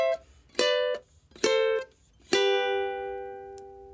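Ukulele lead part in seventh position playing three offbeat accented third dyads, each a bright plucked two-note chord ringing briefly, the last one sustaining and fading, with no other sounds.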